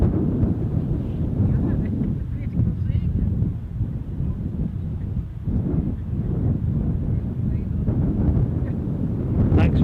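Gusty wind buffets an outdoor microphone at Amsterdam Schiphol airport, a steady low rumble with loud swells, continuous and close throughout.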